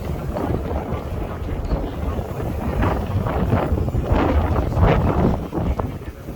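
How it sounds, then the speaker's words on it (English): Strong gusty wind buffets the microphone outdoors, roaring in uneven low surges that swell and ease across the few seconds, loud and close with no other sounds standing out. "Ooh, quite blustery."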